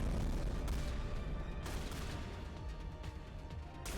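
Heavy gunfire and booming impacts from a Mass Effect firefight roll together in a dense, loud barrage, with sharp shots punctuating the sustained rumble.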